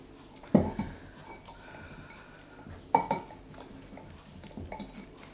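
Meat and bones packed into a cooking pot for cholent, a Jewish beef and bean stew, giving a few quiet knocks and clunks against the pot with soft shuffling between.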